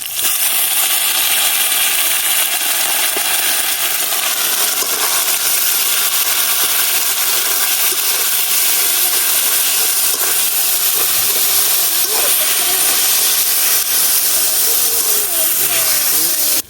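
Red amaranth greens go into a hot pan with fried onion, garlic and green chili, giving a loud, steady sizzling hiss that runs throughout, with faint stirring and a voice speaking under it.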